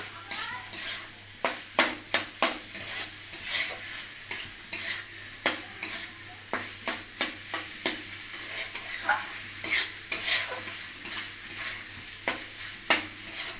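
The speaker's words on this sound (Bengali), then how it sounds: "আর একটু নাড়াচাড়া করতে হবে, তারপর নামাই দেবো।" A spoon scrapes around a pan of dried fish paturi mixture in quick, rhythmic strokes, about two per second, with a soft sizzle underneath. The stirring is close and fairly quiet.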